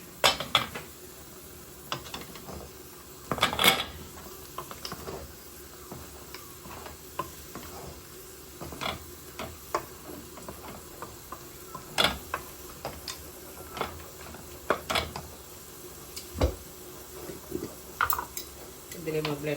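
Ginger garlic paste going into browned onions in a pot, a faint sizzle under sharp clinks and taps of a spoon against metal, scattered knocks across the stretch with some background voice.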